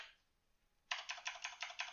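Rapid bursts of computer keyboard typing begin partway through, after a short quiet stretch, with keystrokes clattering in quick irregular clusters up close.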